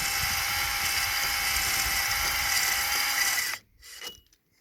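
A Milwaukee cordless drill with a weakening clutch drives a hone inside an engine cylinder, a steady high whirring grind held for several seconds that then abruptly stops, followed by a short faint mechanical rattle.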